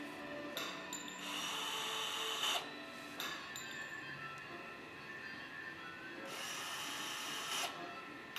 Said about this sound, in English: Use your power screwdriver to find out.